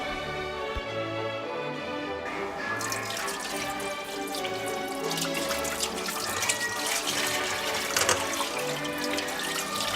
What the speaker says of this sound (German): Also Terrarium spülen und Wasser und Schmutz mit einem Schlauch abgesaugt.